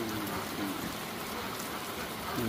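Steady rain falls outdoors as a dense, even patter and hiss that holds without a break, with no voices over it.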